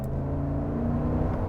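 Cadillac Escalade ESV with a large naturally aspirated engine pulling away under light throttle, a steady low engine drone and whir heard from inside the cabin, even and continuous throughout.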